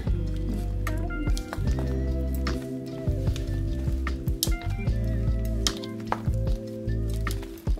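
Fresh strawberries and raspberries folded into a creamy keto ambrosia fruit salad, giving close, wet squishing and soft clinks of a utensil against the bowl in a steady stirring rhythm, with no talk.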